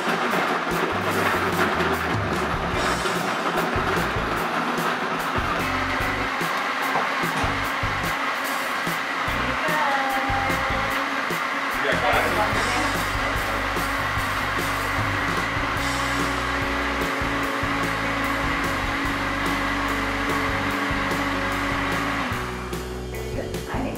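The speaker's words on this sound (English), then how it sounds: "Okay, you ready to blend this thing up?" A Vitamix blender whirs continuously at high speed, blending a wedding-cake-flavoured protein smoothie, its loud steady motor drone holding for over twenty seconds before cutting off near the end.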